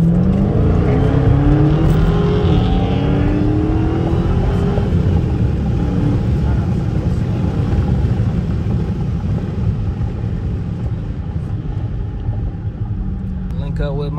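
Around twenty Dodge Hellcats and Trackhawks crowd a Chicago gas station. Their engines roar loud and close in one continuous din, with revs climbing and falling over one another the whole time.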